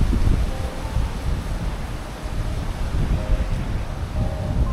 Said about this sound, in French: Quand je vous dis que le vent est vraiment fort.